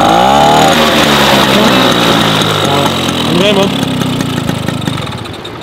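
A Motobécane moped engine revs with falling pitch, then settles into a loud, rough idle. Brief speech is heard over it.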